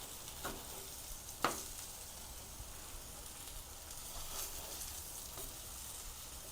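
Brinjal slices fry in a pan as a faint, steady sizzle, with a couple of soft clicks from flipping the crisping pieces.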